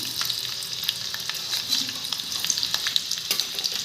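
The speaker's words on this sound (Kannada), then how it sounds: "ಬೆಳ್ಳುಳ್ಳಿ ಸ್ವಲ್ಪ ಕಡು ಕಂದು ಬರೋವರೆಗೂ ಸ್ವಲ್ಪ ಎಣ್ಣೆಯಲ್ಲಿ ಬೇಯಿಸಿ" Garlic pieces fry in oil in a close pan, a steady dense crackle and sizzle with light stirring clicks running throughout, no voices.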